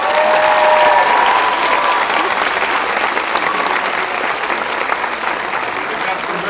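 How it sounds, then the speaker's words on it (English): Loud, close applause from a crowd at a graduation ceremony, honoring preschool children, dense, sustained clapping with crowd noise and faint voices mixed in, easing slightly over several seconds. "Let's give them a round of applause."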